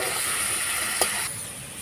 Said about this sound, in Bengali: এবার তেলের মধ্যে টুকরো করা আলুগুলো ভালো করে ভেজে নেব।